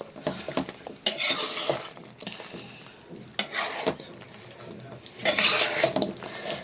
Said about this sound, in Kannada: ಸ್ಟವ್ನ ಸಣ್ಣಗೆ ಇಟ್ಕೊಂಡು ಚೆನ್ನಾಗಿ ಮಿಕ್ಸ್ ಮಾಡಬೇಕು.